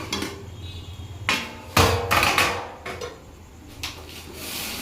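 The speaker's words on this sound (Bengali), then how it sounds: "এবার ঢাকনাটাকে আমরা তুলে নেব।" A metal lid is lifted off a pot of simmering vegetable pulao, making a close clank and scrape, then softer rattles and a low steady hiss of cooking beneath.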